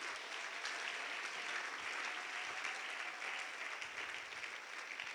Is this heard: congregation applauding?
yes